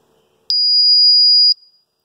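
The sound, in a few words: ToxiRAE Pro CO2 gas meter startup alarm buzzer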